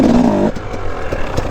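Dirt bike engine revving hard during a wheelie attempt, a loud close rise that cuts off abruptly after half a second, followed by lower rumbling and scattered clattering.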